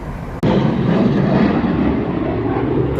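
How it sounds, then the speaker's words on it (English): Aerobatic airplanes flying over Lake Michigan at an air show, a loud, steady engine roar that starts abruptly and holds for a few seconds with no talk. "out playing on Lake Michigan, doing flips in the plane, chasing each other"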